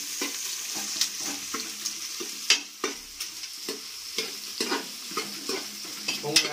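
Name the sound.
onions frying in a pan for biryani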